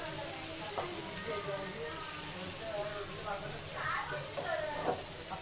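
Surmai fish frying in a pan Konkani style, with a steady close sizzle and occasional stirring scrapes running throughout.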